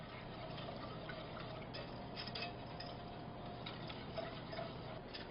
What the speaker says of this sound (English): now I'm going to cook the pastry cream over medium heat, whisking as it comes to a simmer